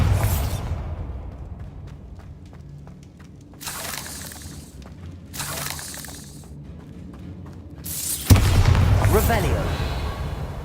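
A Bombarda blasting spell in Hogwarts Legacy fires off in a dungeon, bursts of rushing noise build and fade before a sudden loud explosive crack and a rumbling debris-filled aftermath, with speech heard around it.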